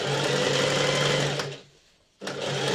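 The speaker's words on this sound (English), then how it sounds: "We're going to get past the seam and nervously check our bobbin." A sewing machine stitches a seam on a child's coat, a loud close steady whirring drone that stops briefly for about half a second, then starts up again and runs on.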